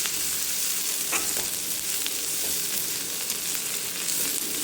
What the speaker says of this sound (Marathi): ह्याच्यामध्ये कांदा भाजत आला की थोडं बेसन भाजून घेते